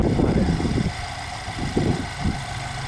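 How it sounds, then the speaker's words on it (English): A 2012 Nissan Juke 1.6 turbo engine with a CVT runs steadily nearby, a low rumbling idle with a few slight surges, with no voices. "for the most part the engine sounds really good, runs great"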